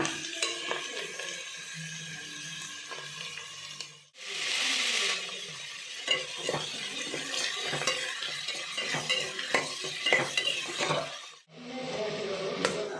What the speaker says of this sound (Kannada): ಈಗ ಮುಳ್ಳಂಗಿ ಎಲ್ಲ ಸ್ವಲ್ಪ ಫ್ರೈ ಆಗಿದೆ